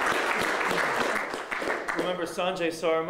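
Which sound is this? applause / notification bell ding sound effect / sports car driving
applause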